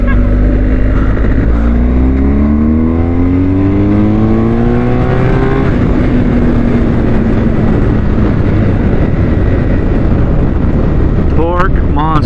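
A BMW R1250GSA motorcycle on the road, its engine climbing and falling through gear shifts, with loud, close wind buffeting the microphone throughout and riders talking over it.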